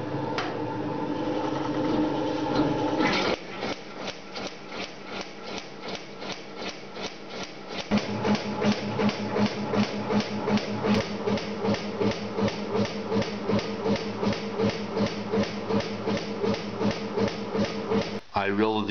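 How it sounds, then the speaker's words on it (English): Metal shaper cutting with a carbide tool, the machine unstable and rocking on its feet, gives a loud steady run of rhythmic strokes and rattling vibration, louder after a brief pause partway through. "If now I start the machine, you will see immediately that there is a boogie-woogie problem."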